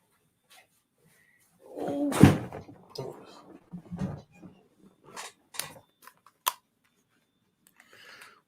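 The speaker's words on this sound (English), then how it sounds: "Let me shut this door." A room door is swung shut with a solid thud, followed by a few lighter knocks and rattles as it settles, fairly close and with no talking over it.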